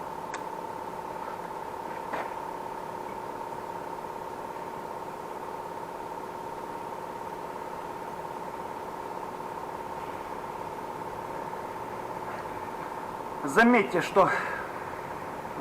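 A motorcycle engine, fed from a bottle, idles steadily with a thin, constant hum for a long stretch before a brief burst of louder, ragged noise near the end. Someone speaks briefly over it.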